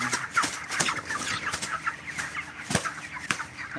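A flock of hens on a poultry farm in Cox's Bazar clucks continuously, with many overlapping calls and sharp repeated clucks at a steady, busy pace, fairly close and with no talking.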